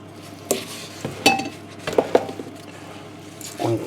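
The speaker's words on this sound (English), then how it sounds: "And I'm going to give it a stir" Oats being stirred into a flapjack mixture in a bowl, giving a handful of scattered scrapes and clinks of the utensil against the bowl at close range, with quiet gaps between them.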